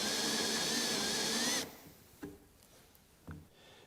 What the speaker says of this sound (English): With the drill spinning at a low speed, engage the burnisher in the screw head and grind down